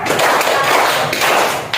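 Children in a classroom clap together in a short, quick burst of a class clap pattern, close and fairly loud.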